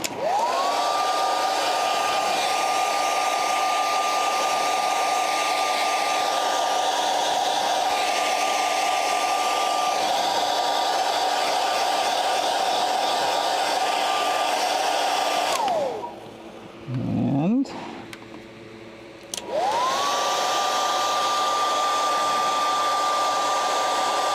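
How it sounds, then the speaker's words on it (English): In a puppet-building workshop, a hair dryer runs with a loud, steady whining roar close by, switches off for a few seconds midway, then starts up again at full blast. "Gonna grab our hair dryer here, which is all cable entangled."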